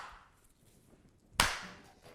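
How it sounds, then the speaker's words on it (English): Hands clap once around fresh mint sprigs, a single soft slap in a quiet kitchen. "Clap it between your hands, and what it does is it bursts the leaves and bursts the oils"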